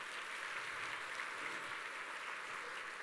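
Steady applause from an audience at a Chinese-language company introduction event, a dense, even wash of clapping held at moderate level for a few seconds with no voices on top.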